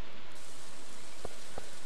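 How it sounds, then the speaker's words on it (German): Steady hiss of rainfall in the Stardew Valley video game fills the whole clip, even and continuous, with a couple of soft low thuds near the end. "heute regnet es."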